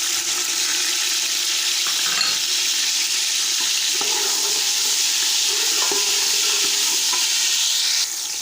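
Tomatoes hit a pan of browned garlic with a steady hiss of frying, joined by intermittent scraping and stirring scrapes and a few soft clunks.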